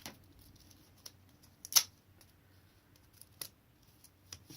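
Scissors snip through poster paper in a few sparse, quiet cuts with pauses between them, close by in a quiet room, and nobody speaks.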